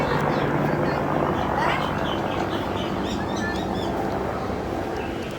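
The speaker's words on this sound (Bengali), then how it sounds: "ওই যে হেলিকপ্টার যেতেছে।" A helicopter flying overhead, heard outdoors as a steady, loud rotor drone with bird chirps and people talking nearby.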